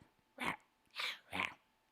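A person imitates a flat-nosed dog's raspy bark with three short, breathy, hoarse barks spaced evenly, close and quiet.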